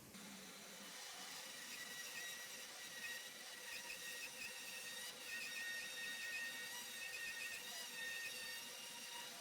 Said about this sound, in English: I'm going to be using my bandsaw for that